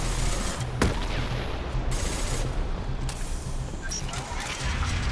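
Mass Effect 2 combat gunfire rattles in rapid continuous bursts with sharp individual shots standing out, loud and close, over a dense background of battle noise.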